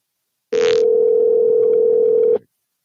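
A steady telephone dial tone sounds loud and unbroken for about two seconds after a brief click of the handset, then cuts off abruptly, with no talking.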